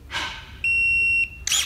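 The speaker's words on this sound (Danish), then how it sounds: "så holder man nede på den her, indtil den siger bip" A Zanon battery-powered pruning shear (25 mm) gives a single steady electronic beep of about half a second, loud and close, between short hissy mechanical sounds.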